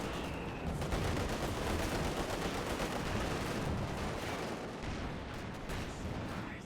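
Light machine gun fire in a WWII strategy game battle, a dense, continuous clatter of rapid shots mixed with other gunfire and artillery, steady and loud throughout without talk.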